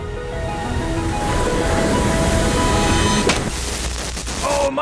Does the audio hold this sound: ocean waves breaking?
yes